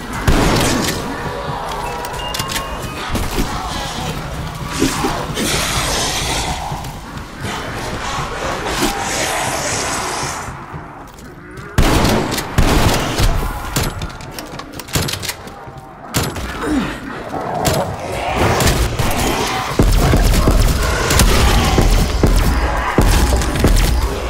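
Rapid Ray Gun blasts in a Call of Duty zombies match, loud energy shots crackling in dense bursts over chaotic crashes and game noise, with a brief lull midway before heavy firing resumes.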